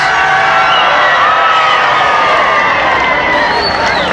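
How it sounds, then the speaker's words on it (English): Large outdoor crowd in a Fort Worth, Texas parking lot cheering and applauding President Kennedy in November 1963, a steady dense roar of voices and clapping throughout, loud and continuous with no pauses. "You hear the crowd applaud him."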